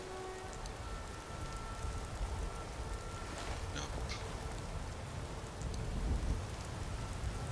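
Steady rain pours in the video game Skyrim, a constant hiss with low rumbling beneath, while someone briefly speaks.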